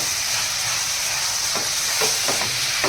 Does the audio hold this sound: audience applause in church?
no